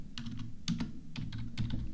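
Typing on a computer keyboard: a quick run of light key clicks in small irregular bursts, close and fairly faint over a low steady hum.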